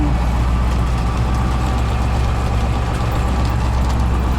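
A loud, steady low rumble of an Oliver tractor engine idling nearby, unchanging throughout with no voices.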